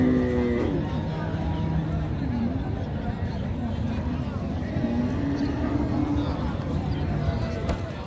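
Cattle at a crowded livestock market in Raniganj, Dinajpur, a cow lowing close by at the start against a dense background of crowd murmur and people talking.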